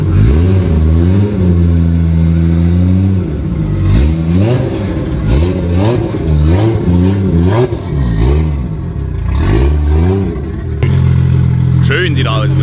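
A 1000 PS Toyota Supra MK4 single-turbo engine starts for the first time and is revved repeatedly. The bursts are loud, close, and rise and fall over a steady, heavy idle.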